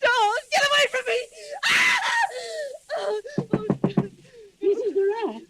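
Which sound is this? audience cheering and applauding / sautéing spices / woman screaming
woman screaming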